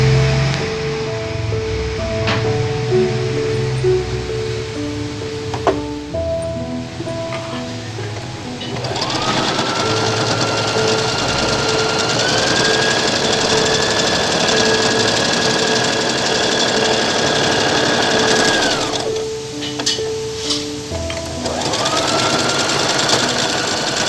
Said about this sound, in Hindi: आपको हम सिलाई करके भी बता देते हैं।